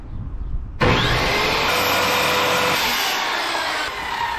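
A 1x12 wooden board being cut for a van bed, with a loud, steady sawing roar starting abruptly after a short quiet lead-in and running close and continuous to the end.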